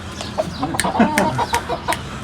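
Chickens cluck repeatedly at close range in a farmyard, short throaty calls coming in an uneven series with faint background voices.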